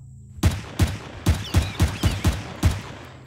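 Pistol fire in the sci-fi survival game Empyrion on a tropical planet: seven sharp, evenly spaced shots ring out in a steady rhythm over a low ambient hum, close and loud.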